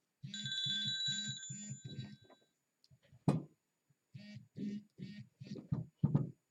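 A telephone at home rings with a rapid, repeating electronic trill of about four pulses lasting roughly two seconds, then falls mostly quiet apart from a sharp knock and several short, close bursts of sound.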